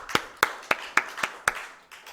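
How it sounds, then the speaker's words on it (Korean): A congregation in a Korean church claps in welcome during an online worship service, six sharp, evenly spaced claps at a steady rhythm, close and clear with nothing else around them. "우리 박수로 한번 환영합시다."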